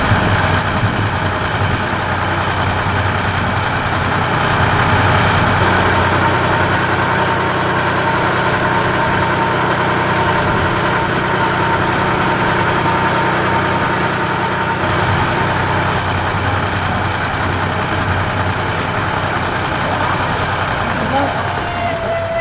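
A diesel locomotive idles at platform 1 of Whiteman Village Junction on the Bennett Brook Railway, a constant low, throbbing engine rumble that stays loud and unchanging throughout.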